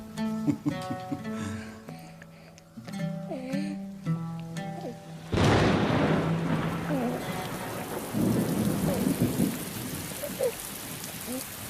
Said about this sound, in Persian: باران را بنگر که قحطی را از فقدان می‌زداید